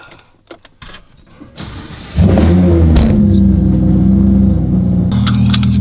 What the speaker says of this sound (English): I'll pull the car out.